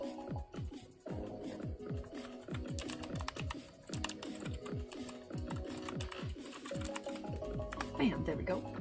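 Rapid typing on a computer keyboard at an outdoor patio coworking spot at sunset, dense clattering keystrokes in irregular bursts, close and fairly quiet, with faint talk mixed in.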